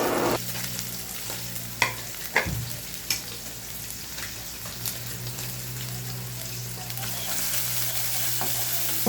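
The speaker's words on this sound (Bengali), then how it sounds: "এই জন্য পেঁয়াজ দিয়ে দিয়েছি, কাঁচামরিচ দিয়েছি। এবার এটাকে ভালোভাবে ভেজে নিব।" Onions and green chilies fry in a pan over a stove, giving a continuous soft sizzle broken by a few sharp clicks of stirring, close and without talk.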